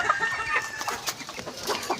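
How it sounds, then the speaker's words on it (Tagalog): Several chickens cluck softly and repeatedly nearby while eating greedily, short busy calls over faint background noise. "Tingnan nyo kung gaano katakaw yung mga manok na yan."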